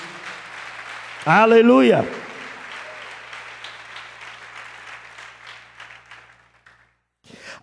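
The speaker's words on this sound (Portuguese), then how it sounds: "Então dá um aplauso bem forte ao Cordeiro de Deus aí." Applause from a church congregation during a sermon, beginning under a loud sung or shouted exclamation, then continuing as scattered clapping that thins and fades to near silence.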